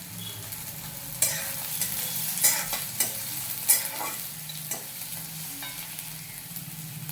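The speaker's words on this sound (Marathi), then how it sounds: "मिरच्या आणि कांदा चांगला फ्राय झालेला आहे" Onion and green chillies frying in a pan for kande pohe, a steady sizzle broken by several sharp scrapes and stirring clatters of a spoon against the pan, close and fairly loud with no talking.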